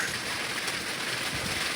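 Heavy rain pouring down during an intense pop-up summer storm with hail, a dense, continuous hiss of drops on surfaces, loud and steady throughout with no voices.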